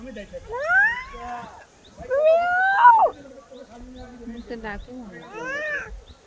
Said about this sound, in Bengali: মিয়াও কর মিয়াও